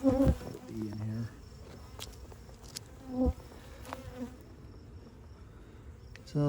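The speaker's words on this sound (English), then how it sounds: "put a bee in here." Honey bees buzz steadily around an open hive during a summer inspection, a close, continuous drone with a few louder passes as bees fly near, and no talk over it.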